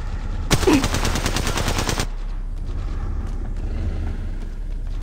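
Rapid automatic gunfire from the battle royale video game Apex Legends rattles loudly in a dense burst for about a second and a half, then cuts off, leaving a low background rumble.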